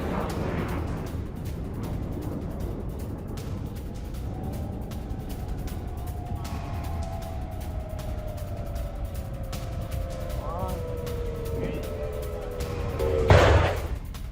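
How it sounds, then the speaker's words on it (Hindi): Iranian ballistic missiles intercepted in the air: a steady rumbling noise bed with long descending whines streaking across, ending in a sharp, loud blast near the end. "शॉट्स के साथ ईरान की सभी बैलिस्टिक मिसाइलें हवा में इंटरसेप्ट की गई हैं"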